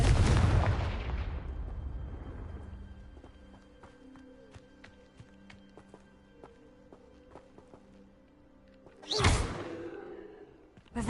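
Spells cast in the video game Hogwarts Legacy: a loud fiery blast that fades out, then scattered clicks and faint footsteps, and a second burst near the end, with no talking.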